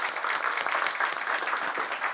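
Applause at a health informatics conference for the day's speakers, an even, sustained patter of clapping from a seated audience, moderately distant and without voices.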